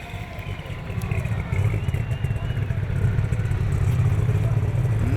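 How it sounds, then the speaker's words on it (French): A tractor-pulling engine roars steadily at full load during a tractor pulling event, a dense low rumble with rattling clatter that swells slightly and holds strong throughout. "C'est-à-dire que le moteur est pleine charge."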